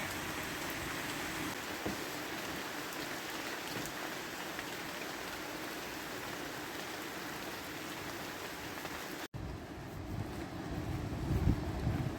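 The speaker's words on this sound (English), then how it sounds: "It suddenly decided to start chucking it down with rain." Steady heavy rain pours down continuously, a dense wash of drumming drops with some wind noise, close and loud throughout, on the Thames Path between Tilehurst and Marlow.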